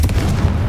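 A Confringo fire spell in Hogwarts Legacy goes off as a single loud, close, booming blast with a heavy low rumble, lasting under a second.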